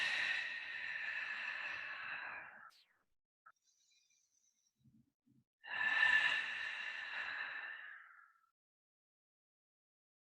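Two long, deep breaths during a yoga nidra session, each a steady airy exhale of about two to three seconds, with a quiet pause between them and no talking.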